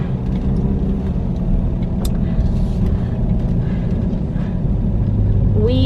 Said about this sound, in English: I'm barely driving.